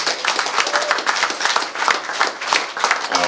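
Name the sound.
applause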